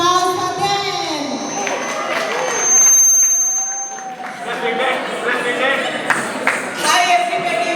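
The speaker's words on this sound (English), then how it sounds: "Give a big hands of applause for them." Audience applause and cheering from a crowd at a stage show, with a mix of voices and children calling out over the steady clapping.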